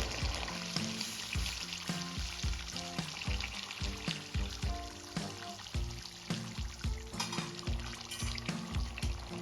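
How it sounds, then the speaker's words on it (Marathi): Hot water poured into a pan of Kashmiri chicken masala, setting off a loud, continuous sizzle and bubbling hiss broken by repeated soft knocks of stirring throughout. "इथे मी गरम पाणी ॲड करणार आहे"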